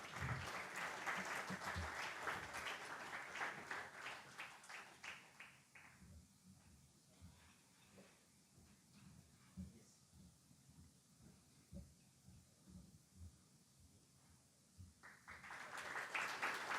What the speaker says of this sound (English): Let's welcome all of them with a huge round of applause